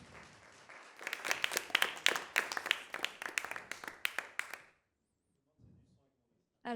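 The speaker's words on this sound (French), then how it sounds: "On peut l'applaudir encore." An audience applauds a prize winner at an award evening, a burst of lively clapping lasting about four seconds before fading into near silence.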